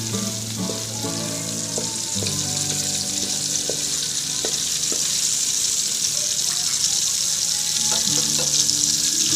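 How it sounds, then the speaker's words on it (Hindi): Spice masala frying in oil in a pan, a continuous close sizzle with scattered clinks and stirring knocks throughout, no voices. "मसाले को अच्छे से भून लेंगे।"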